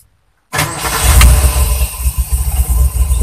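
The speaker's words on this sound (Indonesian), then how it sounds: "tinggal coba starter" A car engine cranks and fires after a new Panasonic 34B19L battery is fitted: silence, then an abrupt loud start at about half a second that settles into a close, pulsing idle.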